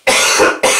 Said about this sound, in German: ich muss mal ganz kurz nur husten